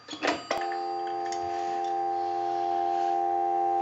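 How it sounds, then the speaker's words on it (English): An Automatic Electric payphone under repair puts out a steady, continuous dial tone through an amplifier, starting after a couple of brief clicks and holding loud and unchanging to the end. "That's your dial tone."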